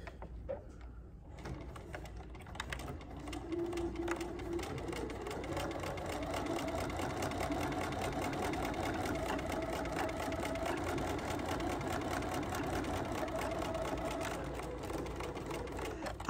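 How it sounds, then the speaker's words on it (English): A sewing machine back tacks a seam and sews off the edge of the fabric. After a quiet start it settles into a continuous, moderately loud mechanical hum that lasts for most of the stretch. "I always sew off the edge when I back tack"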